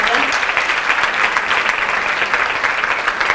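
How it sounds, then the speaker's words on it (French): A loud, sustained round of applause from an audience at a conference on gender equality between women and men, with dense, even clapping from start to finish. "ça mérite des applaudissements quand même"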